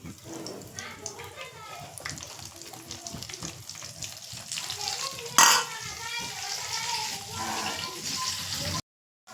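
Soybean chunks fry in oil on a low flame with a steady, moderate sizzle and occasional stirring clatter, and a voice talks over the cooking.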